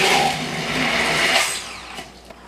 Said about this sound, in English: So I'm using my handheld blender.